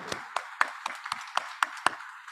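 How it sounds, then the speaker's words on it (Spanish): Sparse clapping welcomes a speaker at a law lecture held at the Colegio de Abogados de Lambayeque: about nine distinct, evenly spaced claps, fairly close and moderately loud, with no voices. "para quienes pido un fuerte aplauso y le damos esta bienvenida"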